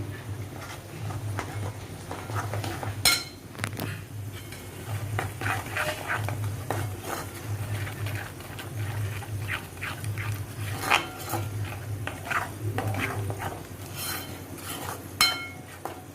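A spoon stirs a spice masala of garam masala, red chilli, coriander powder and turmeric in a pan for a paneer and peas gravy, quiet scraping and clinking in irregular bursts under a low background hum.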